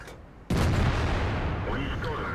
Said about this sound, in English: Now I'm very conscious that there's artillery in this game